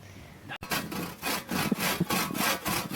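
Bahco Timber Pro Cut hand saw cutting wood outdoors in a snowy forest: after a brief sharp knock, a run of rhythmic rasping strokes follows, close and moderately loud, with no talking.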